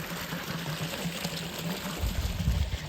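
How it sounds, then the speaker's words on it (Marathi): Irrigation water runs steadily into a farm field planted with sugarcane, a continuous rushing flow that swells slightly near the end, with no voices. "खालच्या वावराला पाणी चाललंय तिकडे."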